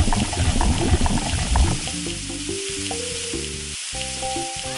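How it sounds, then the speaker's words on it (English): Cartoon cooking-game sound effect: oil sizzling in a heated frying pan in a space kitchen, a dense hiss that fades into light bubbling crackle with short game-music tones. "the frying pan is being heated"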